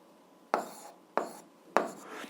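Algebra being written on a surface for an 8th-grade lesson, heard as three separate firm marker or chalk strokes at even intervals, each a sharp scratch that fades, with no talk.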